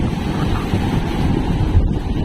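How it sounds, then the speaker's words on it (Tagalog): Sea waves wash against a fishing boat near the shore, heard as rough, churning water and gusty wind roar under steady microphone wind, with a brief louder surge near the end. "Ayun ang alon, ayun na."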